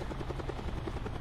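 Helicopter in a video game during a blackout challenge, its steady rotor drone forming a continuous, fairly loud low throb with no talk over it.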